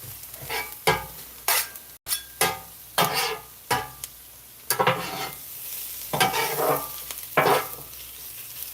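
Onions cooking down in a hot pan for a cheesesteak sizzle steadily while a spatula scrapes and stirs in repeated close strokes, with no talking.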